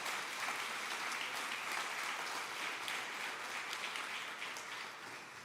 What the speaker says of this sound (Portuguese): Dá mais uma salva de palmas ao Senhor.